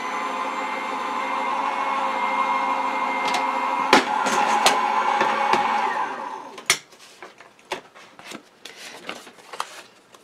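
A Gemini die-cutting machine running as a card with a stitched oval die passes through, a steady mechanical whir for about six seconds, then stopping into a few scattered clicks and handling knocks.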